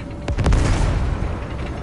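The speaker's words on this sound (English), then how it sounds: "That's the celebration fireworks." Celebration fireworks in the Fortnite video game: a cluster of booming bursts and pops peaking early, then rumbling on steadily at moderate loudness with no talk.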